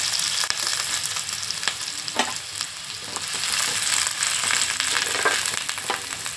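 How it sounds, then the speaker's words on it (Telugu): Chopped onions and green chillies fry in hot oil, giving a dense, steady close-up sizzle broken by occasional scraping and stirring clicks, with no voices. "ఇప్పుడు ఆయిల్ మరిగిందండి. ఉల్లిపాయ ముక్కలు వేస్తున్నాము, పచ్చిమిరపకాయ ముక్కలు,"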